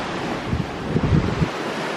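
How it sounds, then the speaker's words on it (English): Ocean waves and strong wind on the deck of the cruise ship Queen Anne crossing the Bay of Biscay, a steady loud roar of wind noise with a few low surging wave thumps in the middle. "There's waves."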